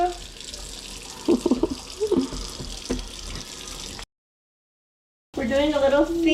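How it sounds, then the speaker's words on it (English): Water runs steadily from a sink tap being readied for a baby's bath, a continuous splash broken by a brief gap, with someone talking over it at times. "We're doing a little sink shower."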